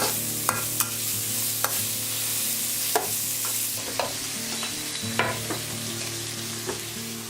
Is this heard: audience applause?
no